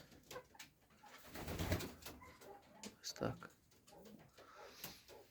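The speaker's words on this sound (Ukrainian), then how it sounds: "Голуби готуються вже до гніздувань, вже воркують, гудять." Pigeons in a loft coo in low, soft, throaty bursts, several calls spaced irregularly, close and fairly quiet, with a voice speaking over parts of them.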